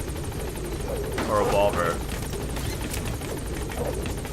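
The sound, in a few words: helicopter in video game Metal Gear Solid V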